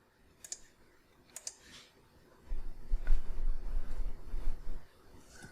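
Computer keyboard keys click a few times, faint and sparse, followed by a stretch of low rumbling handling noise.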